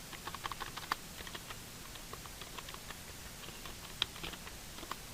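HTML paragraph text is typed on a computer keyboard: quiet, close key taps in irregular bursts with a few louder clacks, over a soft steady room hiss and no talking.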